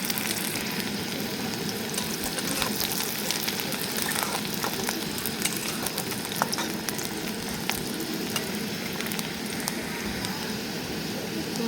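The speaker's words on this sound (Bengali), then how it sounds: "এরপর এর মধ্যে দিয়ে দেবো আমি শুকনো লঙ্কা আর পেঁয়াজটাকে হালকা করে ভেজে নেব।" Dried red chillies and onion fry in oil in a pan with a steady, dense sizzle that runs loud and unbroken throughout, broken by a few sharper crackles.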